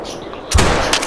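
A hunting rifle shot from the video game theHunter: Call of the Wild cracks loudly about midway, following a quieter stretch of game ambience, with its boom rolling off and a second lighter burst near the end.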